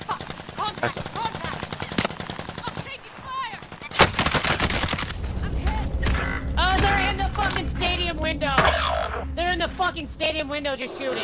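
Warzone video game gunfire pours from a window in rapid, loud bursts of shots, then continues in the background while several voices talk over it.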